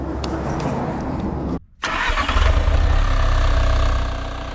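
A car engine starts up and revs after a repair, settling into a steady, loud running note following a brief silent gap, with a low rumble close by.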